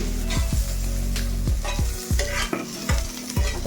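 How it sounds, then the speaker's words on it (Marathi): Onion and coconut sizzle as they roast in a hot pan while a spoon scrapes and stirs in repeated strokes, over a steady low hum, with no voices. "कांद्यावर मी खोबरं टाकते खोबरं पण थोडंसं भाजून घेते"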